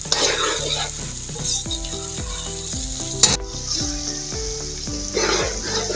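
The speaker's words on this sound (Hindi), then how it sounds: "चिकन को हमें अच्छी तरह करना है फ्राई" Chicken and onions fry in a kadai with a loud, constant sizzle and occasional stirring scrapes, accompanied by a melodic music track throughout.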